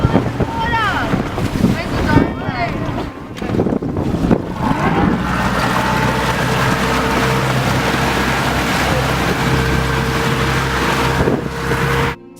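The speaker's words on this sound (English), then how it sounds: "Fisheries had at speed approached a small rib with an idle engine and 2 divers in the water" A fisheries boat powers in toward a small RIB idling with divers in the water, its engine a steady low drone under heavy wind buffeting, with shouting voices near the start.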